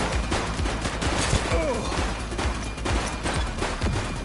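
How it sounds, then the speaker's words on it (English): Dense, rapid gunfire rattles without pause through a police video game, heavy and close with overlapping shots forming a continuous loud barrage. "She's shooting!"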